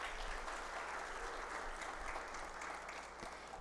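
Faint, distant applause from an audience at a solemn college ceremony greets an honoree being called up. The clapping is a steady, even patter over a low background hum.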